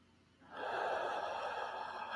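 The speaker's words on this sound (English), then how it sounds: "you inhale in your nose" A single deep, steady inhale through the nose, starting softly after a brief pause and holding loud and close for over a second and a half, with no talk.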